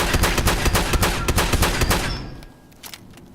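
A double-barrel shotgun in the video game Fallout 76 fires in a fast, loud string of booming blasts, roughly a dozen close together, then tapers off to a couple of fainter shots.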